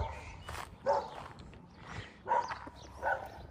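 Dogs bark near a small country cemetery in Charleston, three distinct barks spaced about a second apart, moderately distant and fairly faint against a quiet outdoor background.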